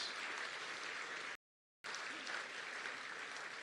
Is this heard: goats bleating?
no